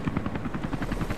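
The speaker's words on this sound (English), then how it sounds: "There's already helicopters here." A helicopter in the video game Rise of the Tomb Raider gives off a steady, rapid rotor chop, a pulsing thump repeating evenly at moderate volume.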